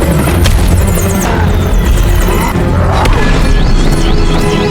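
A cartoon helicopter sways and crashes in a loud, dense clatter of rotor throb, booms and smashing impacts that runs continuously for the whole stretch.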